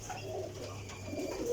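Sialkoti Lahori pigeons coo softly, low rolling calls repeating quietly in a calm setting, faint and unaccompanied by talk.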